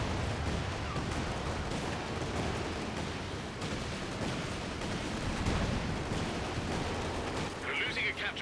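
Rocket artillery barrage from a Landmaster in the strategy game Company of Heroes 2, a dense, continuous rumble of overlapping blasts and crackling impacts layered with battlefield noise, steady and loud throughout.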